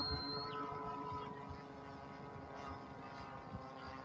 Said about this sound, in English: a good sounding engine